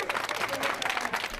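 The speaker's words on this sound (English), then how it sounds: "Applause from Radloff Middle School bus drivers as one of their own was heralded as a hidden hero Tuesday morning." Middle school bus drivers applaud one of their own being honored as a hero on a Tuesday morning, a short burst of dense, steady clapping from a gathered group, with voices mixed in.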